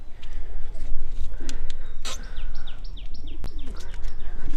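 Pigeons in a coop make repeated soft coos and chirps close by, alongside a few louder sharp clicks and scattered clatter from the coop.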